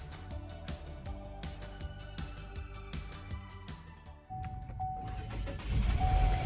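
A car engine cranks and catches after being boosted with a Type S portable jump starter, turning over after a stretch of steady ticking and then settling into a loud, close, continuous run with no talk.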